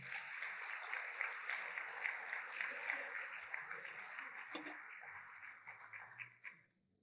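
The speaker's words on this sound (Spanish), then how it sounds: "Da un aplauso al Señor." Church congregation applause during a sermon, a sustained, moderately faint wash of clapping that holds for several seconds before fading out.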